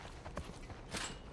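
Faint clip-clop of horse hooves in the video game The Last of Us, a few soft, uneven steps at a distance.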